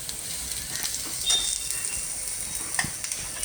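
Ingredients sizzle lightly in a pan on a home stove, a steady close frying hiss with faint stirring scrapes and occasional pops.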